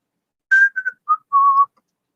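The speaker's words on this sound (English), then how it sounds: "I love to whistle." A person whistles a short tune of four clear notes, starting high and stepping down to a longer held low note, close and clean against silence.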